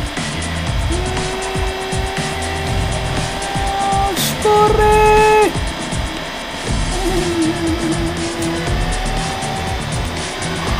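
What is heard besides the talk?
race car engines and tire squeal in Race Driver DS video game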